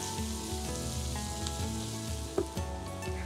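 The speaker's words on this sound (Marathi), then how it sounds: "मध्यम आचेवर कांदा हलकासा सोनेरी रंग येईपर्यंत मस्तपैकी परतून घ्यायचा" Chopped onion sautés over medium heat with mustard seeds, cumin, asafoetida and curry leaves, a steady close sizzle with faint stirring ticks and one brief louder crackle.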